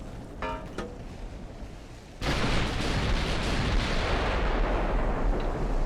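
Naval gunfire from 14-inch guns in the warship game Ultimate Admiral: Dreadnoughts: a few faint distant thuds, then a sudden loud blast that opens into a sustained roaring rumble.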